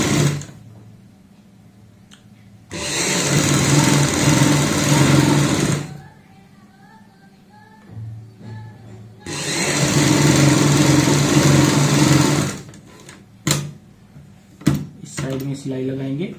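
A sewing machine stitches the side seam of a kurti in two loud, close bursts of rapid whirring a few seconds each, separated by quieter pauses with handling clicks and knocks.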